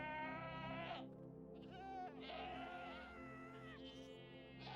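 Several goats bleating in a video game, overlapping wavering cries in quick succession, loud and close against a steady low game backdrop.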